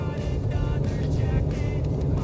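Inside a 2025 Subaru Forester e-Boxer hybrid accelerating with electric motor assist: a continuous low engine and road rumble, steady and fairly loud, with a soft whining hum on top.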